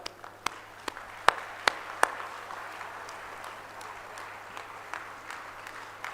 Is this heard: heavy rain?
no